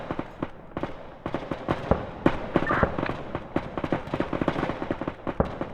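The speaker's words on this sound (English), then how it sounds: "Mortar should be coming to hit." Repeated explosive thuds and booms of mortar fire in a realistic wargame video game, arriving in an irregular rapid series of sharp blasts over a steady rumble, loud and dense throughout.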